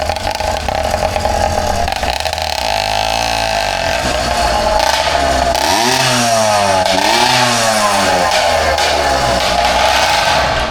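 A 100cc two-stroke engine on an unfinished motorized bicycle runs loud and close, a raspy buzzing drone that dips and rises as the throttle is blipped, with rattly clatter and no voices.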